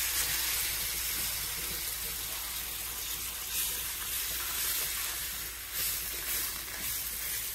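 Gola ruti batter poured into a hot pan sizzles with a steady, fine hiss that holds evenly throughout, close and fairly quiet, with no talking.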